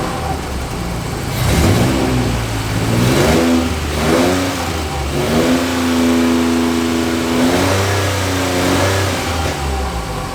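A 1986 Nissan 300ZX Z31 engine idles close by, a steady low rumble that swells into a few gentle revs and settles back, no talking.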